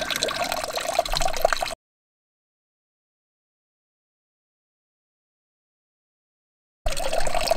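Water flows through a portable water filter from one bucket into another, a close, steady trickle and pour that cuts to a long silence before resuming.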